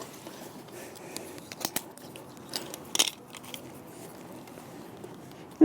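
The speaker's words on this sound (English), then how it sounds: "let's cut halfway in between and create our T." Drip irrigation tubing is snipped with a cutter to fit a T-piece, giving a few quiet, sharp crunching clicks and snaps scattered over a faint background, with no talking.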